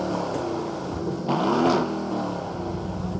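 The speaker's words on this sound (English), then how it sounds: "push the winged starter button in the centre of the dash and the snarly 4-litre twin-turbo V8 springs urgently into life" An Aston Martin Vantage's 4-litre twin-turbo V8 fires up after a starter-button press, a short cranking rise into a snarly rev flare that settles back into a steady idle, close and loud with no voices.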